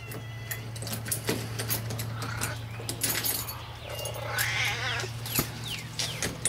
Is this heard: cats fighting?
yes